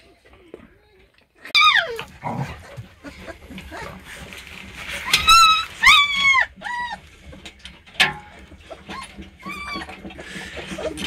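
Newborn Doberman puppies squeak and whimper while eating a broth with pork mixed in: several short, high, rising cries come in bursts over soft background rustling and a faint voice.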